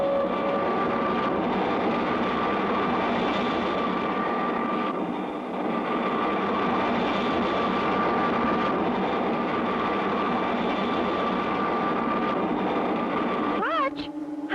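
A cartoon spaceship flies over Mars with a continuous loud whirring engine drone that holds steady before a sudden swooping shift near the end, with people talking over it.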